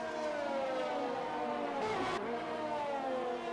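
Formula 1 race car engines in an F1 video game league race at the Austria circuit, a loud, steady high-pitched whine of several cars whose pitches rise and fall as they pass each other near the two-second mark, with no talking.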